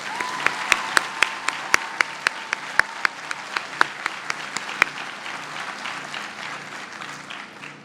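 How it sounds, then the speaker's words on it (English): Commencement crowd applauding military-service graduates, a broad wash of clapping with sharp isolated claps close by and a brief whistle early on, gradually thinning toward the end. "Let's give all these graduates a round of applause."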